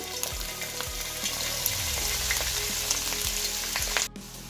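Finely chopped ginger frying in oil for a Kerala-style lemon pickle: steady close sizzling with several soft stirring knocks from a spoon, cutting off abruptly near the end.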